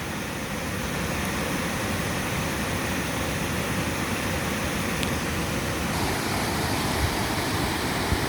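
A waterfall roars loud and steady, its broad even rush constant throughout, heard alone without voices.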